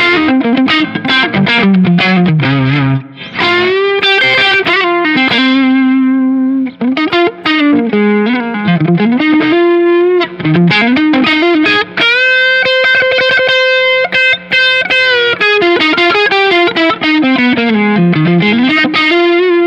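Electric guitar played through a Black Box pedal with its gain set to zero and volume at 75, giving clean, sustained chords and melodic lines with a light chorus-like shimmer, loud and close with no talk.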